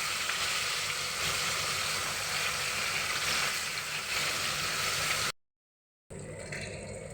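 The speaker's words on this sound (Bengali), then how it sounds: "দেখো উল্টে পাল্টে পার্শে মাছগুলো ভেজে নিচ্ছি, খুব লাল করে ভাজবো না" Parshe fish frying in hot mustard oil in a kadai, a dense, steady close sizzle that cuts to silence briefly before resuming more faintly.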